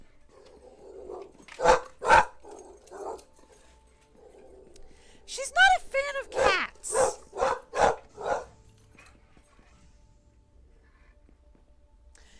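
A pet dog barks indoors at something outside, two barks followed by a steady run of several loud barks, with a short remark spoken in between.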